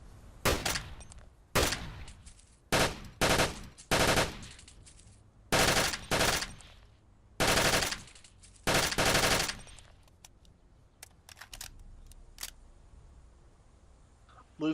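A 6.8 caliber assault rifle with a 30-round magazine fires in a video game, loud bursts and rapid strings of shots in uneven clusters, then short pauses and scattered faint clicks near the end.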